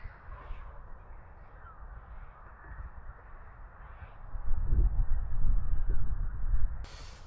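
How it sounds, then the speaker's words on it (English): A large flock of seagulls calls from a distance during a boat ride heading back, harsh overlapping cries rising over a steady low engine and wind rumble, growing denser toward the end. "Massive flock of seagulls."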